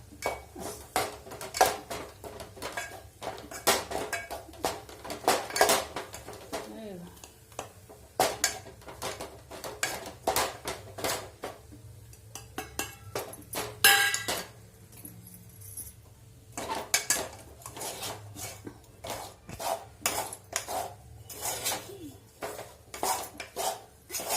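Gram flour being stirred into zunka in a pan, giving a run of scraping and clinking utensil knocks in irregular bursts, close and moderately loud, with no talk.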